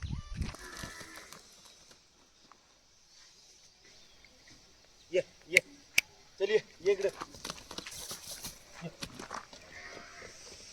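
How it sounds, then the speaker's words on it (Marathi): A young calf moos a few times on a village farm in Konkan, the short calls clustered in the middle and fairly close, while people talk throughout and soft farmyard noise fills the rest. "एक नंबर वासरू बघा, लहान वासरू आहे, कशा उड्या मारतोय"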